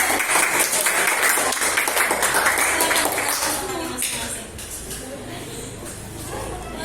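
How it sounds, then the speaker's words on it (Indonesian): Classroom applause from students, brisk clapping for a few seconds that thins out and fades, with murmuring voices in the room afterward. "Kita berikan tepuk tangan."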